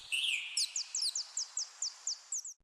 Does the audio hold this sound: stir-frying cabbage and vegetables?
no